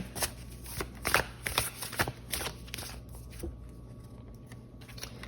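Tarot cards are shuffled and pulled by hand in close, quiet bursts of riffling and snapping card edges, active at first and then thinning to light shuffling near the end.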